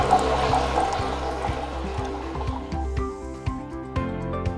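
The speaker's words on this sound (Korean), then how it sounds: "정수기를 통과한 정수를 취수하도록 하겠습니다" Purified water flows from a water purifier into a container, a steady liquid pour with gurgling that gives way to scattered drips and small clicks near the end, heard alone without talk.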